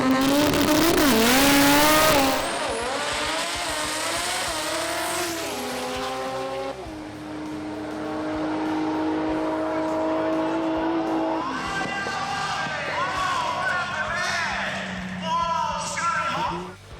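A modified Toyota Corolla drag race car competing in a Modified 10.5 final at a Sydney drag racing event roars off the line, its engine rising through rapid gear changes and fading into the distance. A commentator talks over it.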